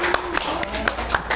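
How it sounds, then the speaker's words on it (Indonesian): Classroom of students clapping hands together after a closing greeting, a loose scatter of sharp claps spread across the moment with low room murmur underneath. "Boleh tepuk tangan."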